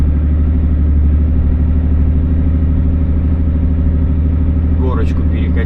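A tractor engine labours steadily while towing a Mercedes up a hill, a loud continuous low diesel drone with rhythmic clatter that holds throughout, close by, with a brief higher sound near the end.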